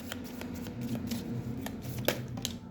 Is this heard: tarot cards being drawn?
yes